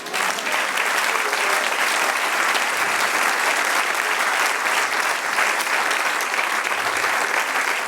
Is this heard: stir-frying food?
no